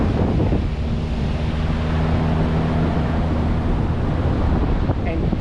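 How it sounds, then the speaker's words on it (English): Strong wind buffets the microphone in a steady, loud roar on New Smyrna Beach at low tide, with surf faintly beneath. "And it's windy as hell out here too."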